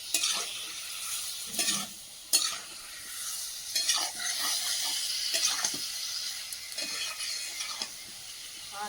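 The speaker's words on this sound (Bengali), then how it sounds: "এবার ভেজে রাখা বেগুনগুলো দিয়ে দেবো, দিয়ে আবারও কষিয়ে নেব" Potatoes and fried brinjal being stirred and fried in a pan over a wood-fired stove, a continuous sizzle broken by repeated scraping strokes of a spatula, close up and with no voices.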